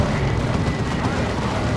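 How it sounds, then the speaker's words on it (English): Las cannon fire in the strategy game Warhammer 40,000: Dawn of War 2 sounds as dense, rumbling energy blasts layered with battlefield noise, steady and loud throughout. "There's more las cannon now"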